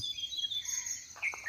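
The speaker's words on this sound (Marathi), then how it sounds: "पक्ष्यांचा किलबिलाट" Birds chirp and tweet in quick, high bursts against a quiet, foggy Konkan morning, with a brighter cluster of calls toward the end.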